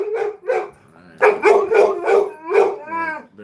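A hungry pet dog at dinner time gives a few short barks and then breaks into a long, loud, wavering howl close by, with no talking over it.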